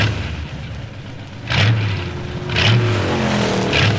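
A 1965 Pontiac GTO accelerating on a GM proving grounds test track, with a low engine roar swelling in several surges as it gathers speed, heard from a moderate distance.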